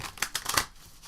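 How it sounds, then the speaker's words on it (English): A few quick papery riffles of a tarot deck being shuffled, close and fairly quiet, in short bursts followed by a soft pause. "Gonna shuffle the deck some more."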